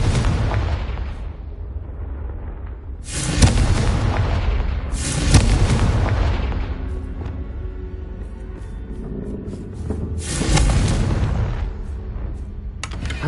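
Fiery Confringo spell explosions in Hogwarts Legacy, a series of loud, deep booming blasts with rumbling tails, spaced a few seconds apart between lower ambient rumble.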